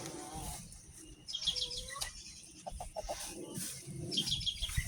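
Chickens cluck and chirp faintly in a muddy country chicken run, several short calls scattered over a low rumbling background.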